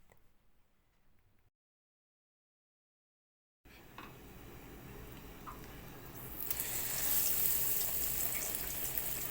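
Breaded chicken panne, seasoned with turmeric, goes into hot oil after a moment of silence, and a steady sizzling hiss builds and grows louder and brighter as the frying takes hold, with no talk.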